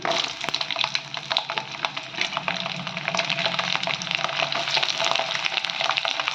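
Mustard seeds and chillies fry in hot oil, a dense close crackle with rapid irregular pops and spitting throughout, loud and steady with no talking.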